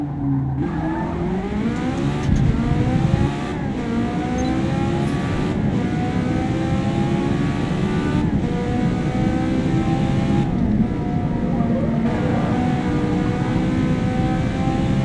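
Race car engine from Forza Motorsport, loud and continuous, with rising and falling revs through gear changes and brief shifts, steady throughout with no talk.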